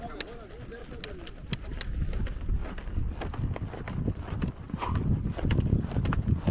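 Horse hooves clip-clop on the ground at a roping session, with uneven, fairly close steps continuing under casual talk.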